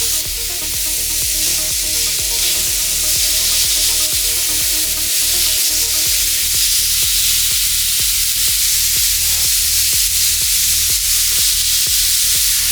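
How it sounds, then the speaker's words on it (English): Smash burgers with mushrooms sizzle loudly and steadily on a preheated Ninja griddle, a dense hissing spatter throughout, punctuated by a regular ticking of popping fat across the whole stretch, no voices. "Once the griddle is preheated, go ahead and open it up, and we're going to set each burger in here, and once it's in, give it a smash"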